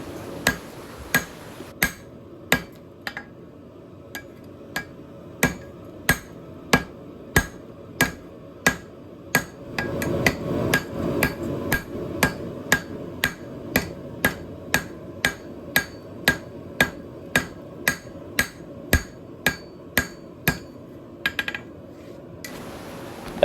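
A power hammer fitted with drawing dies pounds a Damascus steel knife billet, landing loud, close, evenly spaced blows about once a second, with a denser clatter midway and no talking.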